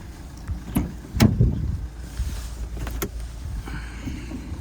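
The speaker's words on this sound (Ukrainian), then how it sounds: "Відкрию зараз капот." On a 2014 Renault Grand Scenic 3, the hood release is pulled and the hood lifted, giving a few sharp clunks and latch clicks close by over low background noise.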